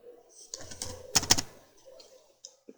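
Typing on a computer keyboard, a quick run of bright clicking keystrokes with a denser burst in the middle, close and fairly quiet.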